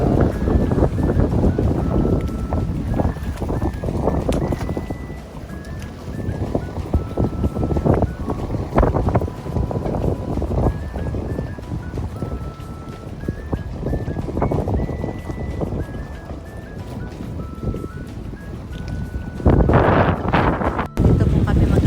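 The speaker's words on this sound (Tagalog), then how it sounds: "Sobrang mahangin dito sa Serifos." Strong wind blows at the coast of Serifos island in Greece, roaring and buffeting the microphone in constant heavy gusts for the whole stretch, loud and close, with faint sea and a few voices in the background.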